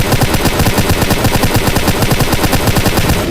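Rapid automatic gunfire from the PUBG Lite video game rattles loud and continuous, a dense, steady stream of closely spaced shots with no pause.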